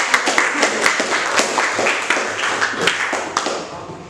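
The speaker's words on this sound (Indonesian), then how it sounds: "tepuk tangan dong sekali lagi" A small classroom group claps steadily, the individual hand claps audible and fairly close, with a faint voice mixed in among them.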